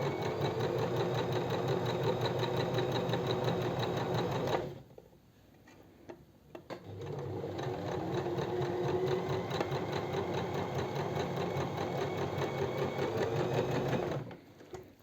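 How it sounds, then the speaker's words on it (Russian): Sewing machine stitching a seam along the fabric edges of a cocktail dress at stitch length 3, a steady loud mechanical whir running in two long bursts with a short pause between them. "Вот так прокладываю строчку. Частота стежка у меня стоит 3."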